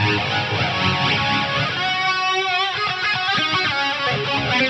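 A Lexicon MPX-1 Centrifuge preset swirls a bright, resonant tone with formant-like sweeps and rising, shifting harmonics, loud and continuous with no voices.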